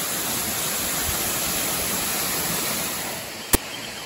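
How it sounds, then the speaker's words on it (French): Mountain torrent waterfall heard from just above the falls on a hillside walk, a steady loud broadband roar rushing without pause, with one sharp click near the end. "Je suis au-dessus, là, quasiment, de la cascade"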